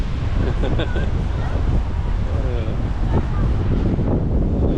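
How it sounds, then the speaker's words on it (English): Steady wind rushes against the microphone at Lake Monger, Perth, roaring at a constant level throughout with no break. "It's getting a bit windy again."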